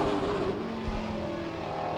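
A 2017 Chevy race car runs alone on the track on a qualifying lap. It holds a steady, moderately distant engine drone for the whole stretch and never passes close.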